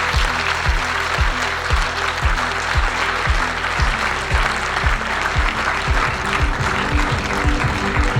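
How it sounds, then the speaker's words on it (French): Audience applause at a French award ceremony, a dense and steady wash of clapping from a large crowd that holds at even loudness throughout, with no voices over it. "Faites un tonnerre d'applaudissements pour Edith Sebula."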